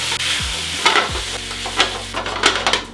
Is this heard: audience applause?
no